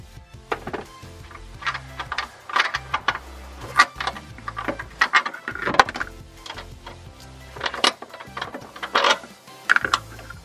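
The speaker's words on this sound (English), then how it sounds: "So I found the bolt is an 18 mil. Gonna need a deep socket." An 18 mm deep socket on a ratchet works loose a seat belt bolt inside a 2016–2024 Chevrolet Camaro, giving a rapid string of sharp metallic clicks and knocks in irregular bursts, close and moderately loud, with no talking.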